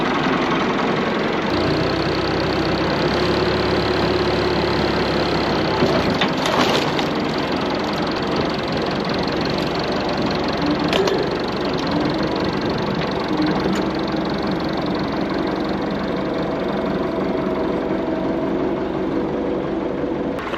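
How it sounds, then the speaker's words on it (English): A machine engine runs loud and close to tip out a strapped timber bundle, holding a steady knocking idle that rises in revs around the middle and keeps droning to the end, with no talking. "I'll rev it up and tip it out, show you what happens."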